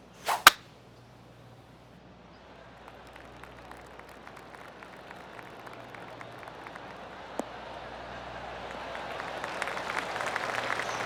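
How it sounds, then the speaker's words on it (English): Light, scattered golf clap from a video game crowd builds slowly and grows denser and louder toward the end, with a sharp crack near the start. "Oh, golf clap."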